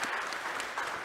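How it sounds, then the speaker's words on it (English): An audience at an afternoon lecture session on ESG for the built environment gives a panel another round of applause, a short, steady patter of clapping heard at a moderate distance. "I think they deserve another round of applause"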